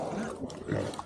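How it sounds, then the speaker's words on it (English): A pig grunts at close range during an evening feeding, giving low, rough snorts over roughly a second with faint background noise. "As a pro tip, I would not advise you walking up to a random pig"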